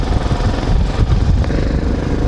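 Touring motorcycles fitted with panniers rumble nearby, a steady low engine drone with slight fluctuations, moderately loud and without speech.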